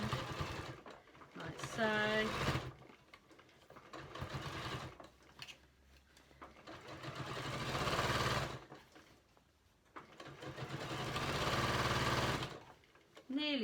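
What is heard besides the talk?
sewing machine stitching around a storage box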